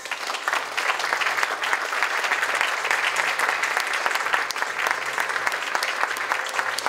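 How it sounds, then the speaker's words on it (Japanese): Dense, sustained applause from a large crowd welcoming invited runners at the opening ceremony of the 26th Nagano Marathon 2024, steady and loud throughout with no break. "皆様大きな拍手でお迎えください。"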